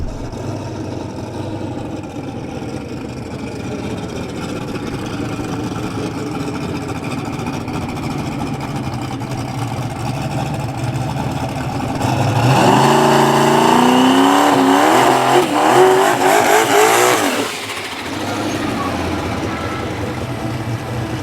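A Chevy pickup race truck making test passes at a drag racing shootout idles with a loud, rough engine rumble, then revs hard for several seconds before dropping back to idle.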